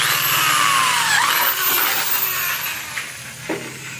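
A power drill with a 3/16 bit boring a hole for a flush bolt in a door, loud and close with a steady high whine that shifts pitch as the bit bites and slows near the end.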